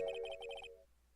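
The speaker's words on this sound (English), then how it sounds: "I heard a phone ring just now. One of those newfangled ringtones." A short electronic phone ringtone from the Phoenix Wright: Ace Attorney video game plays a quick, chirpy, repeating beeping melody for under a second, then cuts off into near silence.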